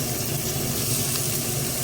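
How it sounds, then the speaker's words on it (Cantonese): Ginger slices hit hot oil in a preheated wok over high heat, giving a loud, continuous close sizzle that holds steady without pause. "將薑片爆香"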